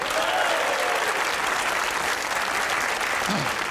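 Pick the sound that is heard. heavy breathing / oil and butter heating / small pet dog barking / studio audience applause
studio audience applause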